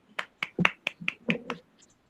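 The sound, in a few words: students clapping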